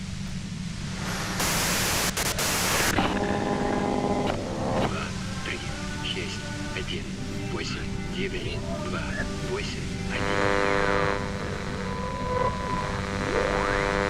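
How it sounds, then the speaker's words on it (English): Steady hissing white-noise static in the video game Disco Elysium, with a harsh burst of louder noise early on and tonal electronic sounds drifting through, while a voice speaks underneath. "you can do it through the white noise."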